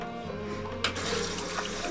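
A Japanese toilet bidet nozzle sprays water, a sudden onset of steady hissing spray following a low hum, close and fairly quiet, with no talking.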